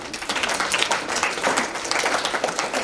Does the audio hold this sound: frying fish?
no